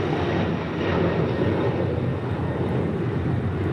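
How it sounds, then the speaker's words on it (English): KLM Boeing 787-10 Dreamliner taking off for Amsterdam from LAX, a continuous rumbling engine roar at moderate distance that swells slightly and stays steady, with no voices. "KLM flight 602 now taking off to Amsterdam on a 787-10 Dreamliner."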